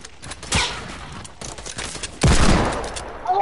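Gunshots in a duos shooter video game, a few sharp bursts spread across the moment, with the loudest cluster near the end and a quieter shot early on, heard close over light game ambience.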